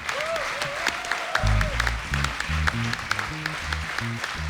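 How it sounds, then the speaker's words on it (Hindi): An audience on an Indian TV comedy show applauds four performers, with steady, loud clapping from a studio crowd that rolls on throughout while music and a voice carry over it. "चारों के लिए जोरदार तालियां।"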